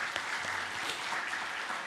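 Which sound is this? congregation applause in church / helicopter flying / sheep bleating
congregation applause in church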